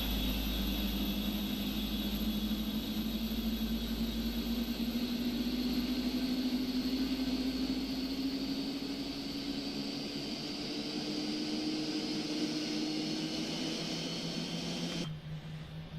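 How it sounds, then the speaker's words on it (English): Boeing 747 engines spooling up in the PMDG 747 add-on for the Prepar3D flight simulator, a steady rising whine with a climbing tone over a low rumble, fairly faint, until it cuts off abruptly near the end. "we are going to listen to these beautiful engines start up"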